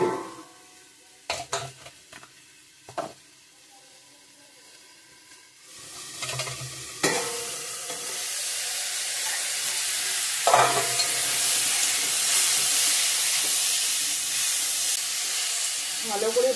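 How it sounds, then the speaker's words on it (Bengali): Tomatoes frying in a pan for a potato and tomato bata fish curry: a few sharp utensil clanks and stirs first, then a loud, sustained sizzle and steamy hiss swells up and holds to the end. "ভালো করে ভাজা ভাজা করে নেব"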